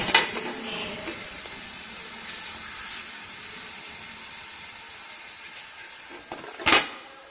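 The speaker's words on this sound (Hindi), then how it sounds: "अब इसको हल्की आंच पे इसको पकने दें" Coila karahi simmering in a pan on low heat, a steady soft sizzle and hiss throughout, with a couple of brief louder stirring scrapes at the start and near the end.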